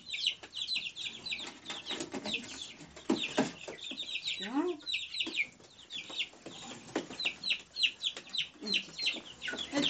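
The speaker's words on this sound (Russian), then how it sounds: "Это у нас цыплята несушек." Young chicks of laying hens in a shed, a steady chorus of soft high peeping and clucking at moderate distance, with a brief word spoken quietly.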